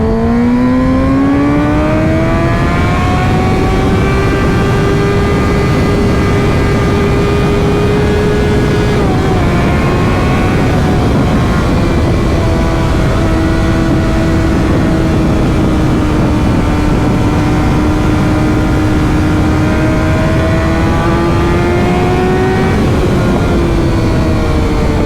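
A motorcycle on a group ride accelerates hard and close, its engine whine climbing steadily, easing briefly around gear changes, then holding a high, sustained roar for over twenty seconds.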